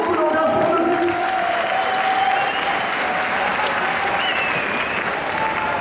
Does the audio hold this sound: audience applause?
yes